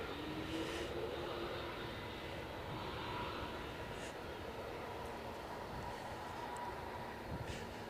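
An ATR turboprop departs Edinburgh Airport in a storm, its engines a steady distant roar under a continuous wash of wind and rain noise, with no talking.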